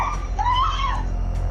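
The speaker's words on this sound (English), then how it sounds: "you can hear our victim screaming for help" A woman screams for help while being mugged, a single rising and falling cry of moderate loudness over a low, rumbling outdoor background.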